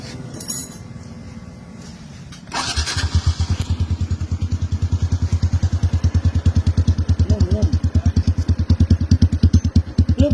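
A 2022 Honda Wave 110i motorcycle with an aftermarket exhaust idles close by with a loud, deep, rapid pulsing exhaust beat that runs steadily after a brief quieter start.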